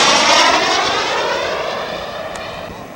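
Scale model Corsair aircraft flying at a model aircraft show, its engine a loud steady drone that slowly fades as it passes and moves away.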